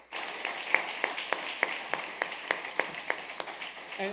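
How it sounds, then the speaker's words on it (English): Scattered claps from a small audience at a youth awards ceremony, about a dozen separate sharp hand claps spread evenly over a few seconds, fairly quiet and thin rather than a full ovation. "another round of applause"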